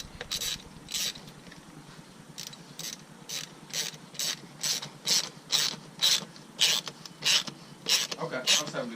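A ratchet tightens the cold air intake on a Hyundai Elantra Sport in rapid bursts of crisp clicking strokes, close and distinct, with faint voices in the background.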